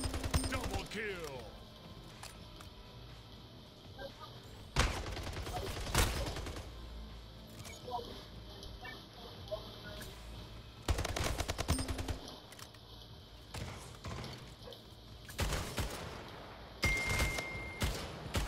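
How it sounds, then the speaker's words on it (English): Rapid automatic gunfire bursts from the Splitgate video game as a player shoots through a portal, loud repeated volleys with short pauses, dings between them and game effects underneath. "I'm the guy shooting through the portal behind you"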